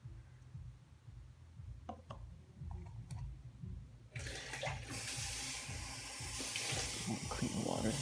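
Water runs from a tap for rinsing a watercolour brush, a steady hiss that starts abruptly midway after quiet clicks and handling noises.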